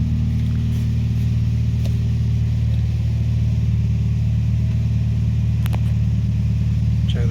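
A 2004 Scion xB engine idling close by, with a loud, steady low rumble that swells slightly as the gas is pressed, and no talking.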